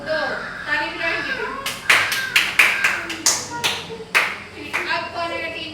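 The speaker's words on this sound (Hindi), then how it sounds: "ताली बजाएंगे।" Children clapping during a classroom team game, a burst of sharp, uneven hand claps over several seconds mixed with kids' chatter, close and fairly loud.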